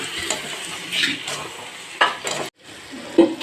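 Kochur loti (taro stolons) is stirred in a sizzling pan, with scraping utensil strokes and metallic clinks over a steady frying hiss, close by and with no talking.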